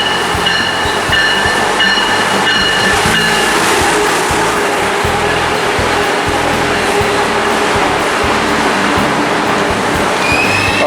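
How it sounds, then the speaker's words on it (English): A passenger train arriving at a station in Newton, Massachusetts: a loud, steady rumble of rolling cars with high whining tones, continuous close-up noise filling the whole stretch without talk. "Yay, train's here."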